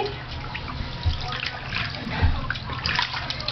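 Water trickles and splashes in a bath as two pets are washed, with soft dripping and a couple of small thuds, close and fairly quiet, with no clear talking.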